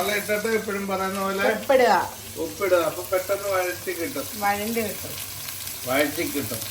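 Sliced onions for biryani fry and get stirred in a pot, a continuous sizzle running under a person's steady talking.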